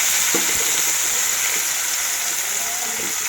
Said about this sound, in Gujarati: હવે આપણે એમાં ટમેટું અને ડુંગળી ઝીણી સમારેલી છે એ નાખી દઈશું